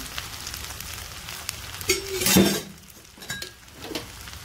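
Sabudana khichdi with salt and ground peanuts is stirred in a pan, giving a soft background sizzle broken by a few clinks and scrapes of a utensil against the metal, with no talking.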